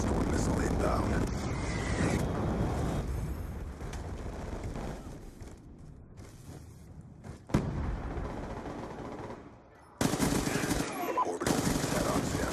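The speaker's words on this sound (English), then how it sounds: "Friendly Hellstorm missile inbound." A Hellstorm missile strike hits during a Hardpoint match in Call of Duty. A sustained loud roar of explosions and gunfire runs throughout, with a sharp impact midway and a heavy, abrupt blast near the end.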